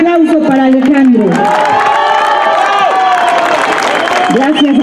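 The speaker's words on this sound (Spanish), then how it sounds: "Un fuerte aplauso para Alejandro." A crowd applauds and cheers at an evening posada rally in Zapotitlán, Tláhuac. The noise is loud and sustained, with whoops and shouting voices over steady clapping throughout.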